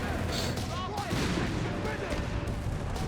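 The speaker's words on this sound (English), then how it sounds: "they're getting mowed down at close range by an MG and a series of MP40s" Machine gun and MP40 submachine guns fire together at close range in the strategy game Company of Heroes 3, a dense, continuous battle din of overlapping rattling bursts with no pause.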